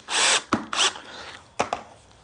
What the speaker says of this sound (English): Put in one screw.